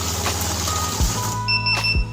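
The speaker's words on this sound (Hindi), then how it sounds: "देखिए ये नकली नोट आती है मशीन रुक गई। यह नकली नोट है, फिर से बीप दे रहा है" A cash counting machine halts at a fake note and gives short electronic beeps over its steady mechanical hum, with brief thumps as it stops, close and fairly loud.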